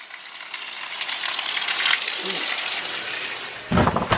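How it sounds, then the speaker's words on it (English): Heavy pouring rain at night after a sunny, hot day, a dense steady hiss close by, with a voice speaking briefly near the end. "It is pouring rain."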